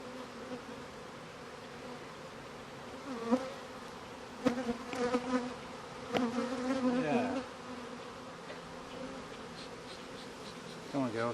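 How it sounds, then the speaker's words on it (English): Honeybees swarm around an open hive during queen cell relocation, a steady close buzz with individual bees zipping past the microphone. "a lot of bees."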